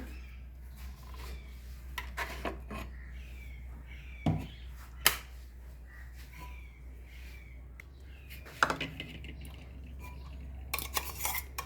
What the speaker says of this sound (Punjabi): ਹੁਣ ਆਪਾਂ ਇਹਨੂੰ ਕੱਢ ਲਾਂਗੇ ਪਲੇਟ ਦੇ ਵਿੱਚ